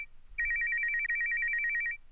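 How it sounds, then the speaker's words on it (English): Phone ringing inside a video game: a single electronic ring, loud and close, lasting under two seconds before cutting off, with no speech over it. "Your phone is ringing."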